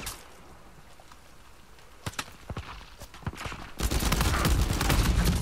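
Gunfire during a ranked online match of Uncharted 4: A Thief's End: a few scattered sharp shots, then a quick cluster of bursts, building into dense, continuous firing and action noise.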